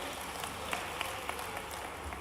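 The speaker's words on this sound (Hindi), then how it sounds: "क्या तालियां बजा के स्वागत करें भाई।" Applause from the audience at a large Kirar community conference held at a Dussehra ground in Bhopal, a steady broadband clatter of many hands with a few sharper individual claps, moderately loud and continuous, with no talk over it.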